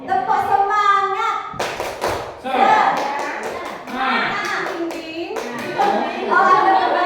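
Teachers clap a rhythmic 'tepuk semangat' cheer at a teacher training session, short bursts of claps and thumps mixed in with speech and chanting voices.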